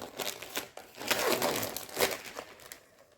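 Plastic zip bag holding a cross-stitch kit being handled and opened, with crinkling and rustling bursts close by, loud and irregular, tapering off at the end.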